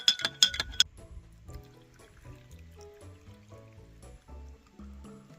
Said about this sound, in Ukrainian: води налємо повен слоїчок